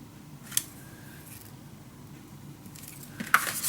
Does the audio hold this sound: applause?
no